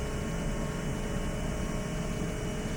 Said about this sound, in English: This is one of the worst case scenarios for taking off with this airplane.